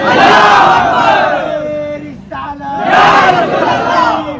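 A large crowd at an Eid Milad un Nabi gathering in Banaras roars a loud unison chant in answer to a Naara-e-Takbeer call, two sustained shouted waves with a brief dip between them, massed voices close and powerful.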